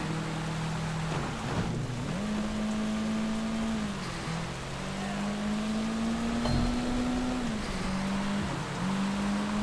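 Steady rain hiss fills the background beneath a droning engine whose pitch rises and falls repeatedly, in the video game Sleeping Dogs.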